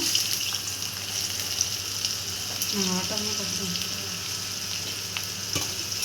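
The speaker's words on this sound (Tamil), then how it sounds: "இப்போ வெங்காயம் போட்டுக்கலாம்." Onions and a green chili sizzle and fry in hot oil with mustard seeds and urad dal, a steady close crackle with occasional stirring scrapes and no talking.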